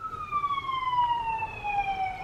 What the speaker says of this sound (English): The amount of sirens that come through our neighborhood is insane.